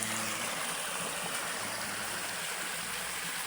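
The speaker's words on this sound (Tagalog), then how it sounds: "Batis natin." Clear-water stream flowing steadily, a soft, even rush and gurgle that sounds fairly distant and continues unbroken with no one talking.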